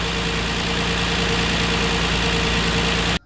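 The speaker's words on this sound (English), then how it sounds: "I got the car running" A 3.8-litre Hyundai Entourage minivan engine idles steadily and fairly loud with a constant low hum, stopping abruptly near the end.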